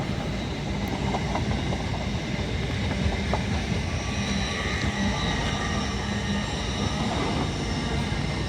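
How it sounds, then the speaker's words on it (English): A Lumo Class 803 electric train on the Edinburgh Waverley to London King's Cross service runs through York station, producing a steady, moderately loud rolling rumble with faint wheel squeal and occasional metallic ticks, with no voices. "Passing through now is a Lumo class 803, working the service from Edinburgh Waverley to London King's Cross"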